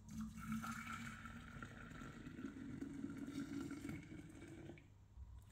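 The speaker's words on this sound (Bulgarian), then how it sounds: "Гореща смес вземам в една гарафа." A hot lemon and sugar mixture poured into a carafe, a soft, continuous liquid stream with a rising gurgle that stops near the end; quiet and close.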